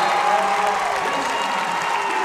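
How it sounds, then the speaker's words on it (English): A dense, loud roar of cheering and applause from the crowd at a high school boys' basketball regional semifinal between Magoffin County and Johnson Central fills a gym, sustained and unbroken throughout. "you see this crowd loud and proud here"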